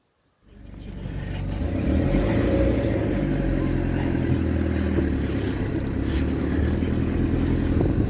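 A car drives down toward a campsite in North Wales, its engine starting up and settling into a steady, loud rumble with some rattling clatter. No one talks.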